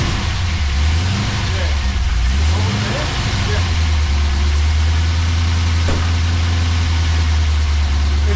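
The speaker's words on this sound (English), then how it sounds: "Keep it idling, so you'll have to just hold it on a little bit to keep it idling." A freshly rebuilt LS1 V8 in a VX SS Commodore idles loud and close at its first start, a deep rumble with a couple of early blips and wavering revs settling into a steady idle while people talk nearby.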